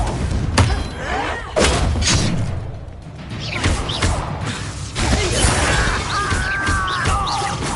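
A Confringo fire spell in Hogwarts Legacy bursts with a sharp blast and crackling impact, followed by thuds and debris rattling, with a second burst and fading crackle later.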